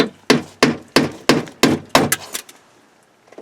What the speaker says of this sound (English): Take a little punch and punch the centers of them out.